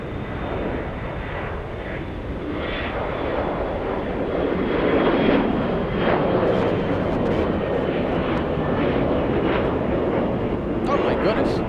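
A jet airliner takes off from runway 8 right at Atlanta Hartsfield-Jackson airport, its engines a sustained, fairly loud roar that builds slightly midway, with voices faintly audible over it.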